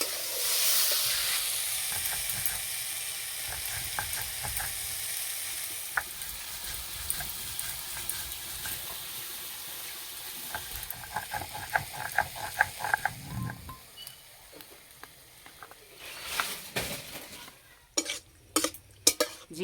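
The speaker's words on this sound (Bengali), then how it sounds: "মাঝে মধ্যে এইভাবে নেড়ে দিতে হবে।" Ridge gourd frying in a pan while it is stirred now and then: a soft steady sizzle with scattered scraping clicks from the utensil, growing busier toward the end.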